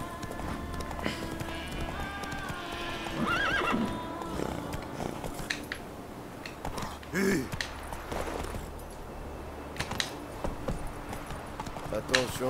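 A strange llama-zebra horse creature in The Witcher 3 neighs and snorts amid game sounds, with clip-clopping hooves and an ambient tone; someone talks intermittently over it.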